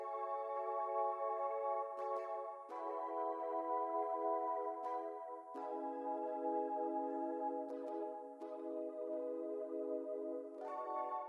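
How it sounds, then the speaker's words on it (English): A warm synth pad sustains low, rich chords under an electric piano in an 80s synth pop beat, with occasional bright attacks as the chords change every couple of seconds, steady and full throughout. "I've just wanted to layer this with a pad that sounds like this."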